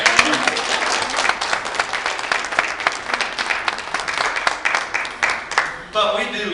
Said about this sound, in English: Can y'all just give Grandma a hand clap of praise?